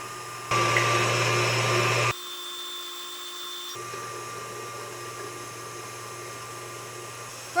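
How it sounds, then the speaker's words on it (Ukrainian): An electric mixer beats eggs in a separate bowl, a close, continuous motor whine that jumps louder for a stretch, drops to a thinner tone, then settles into a steady hum. "Поки яйця збиваються в окремій ємності, просіємо борошно."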